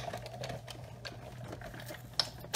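A paper heart is cut from Grapefruit Grove cardstock with a heart framelit die. Soft, uneven ticking and scraping from the hand-cranked die-cutting machine ends in a couple of sharper clacks, all quiet and close.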